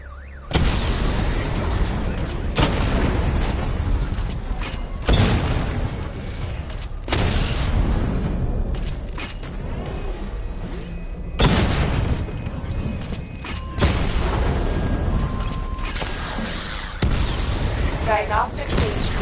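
Missile barrage from the Batmobile in the video game Batman Arkham Knight: repeated heavy booms and bursts in loud clusters every few seconds, close and powerful, with a game voice speaking between them.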